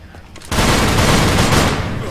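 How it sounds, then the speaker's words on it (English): Heavy machine gun firing in a survival video game on a museum map, a sudden loud continuous burst that starts abruptly and roars steadily at close range with no break. "Heavy machine gun."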